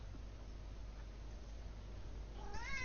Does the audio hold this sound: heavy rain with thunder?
no